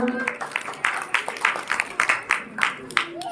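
Applause from the audience at a Guru Ravidas jagran in the village of Marwa Khurd, a steady patter of many hands clapping with sharper bursts, voices faintly underneath.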